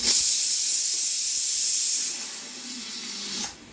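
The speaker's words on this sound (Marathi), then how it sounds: "कुकरची एक शिटी झालेली आहे" A pressure cooker whistle hisses out steam in a kitchen during Indian home cooking, a loud continuous close jet that fades after about two seconds and then ends with a brief final puff.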